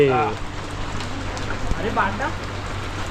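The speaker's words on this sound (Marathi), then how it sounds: "आता निघता निघताय बघा हे दोघा भावांचं काय आलंय पाऊस सुरू झाला आहे" Rain falls steadily outside a house after a birthday party, a soft continuous patter on surfaces with a few brief faint sounds over it.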